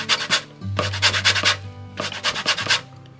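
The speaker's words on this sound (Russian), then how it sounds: "берем лимон и апельсин и натрем цедру лимона и апельсина" Lemon and orange zest grated for a Christmas fruitcake: rapid scratchy rasping strokes in two close, fairly loud bursts, each made of quick repeated scrapes against the grater, with a low hum under the first burst.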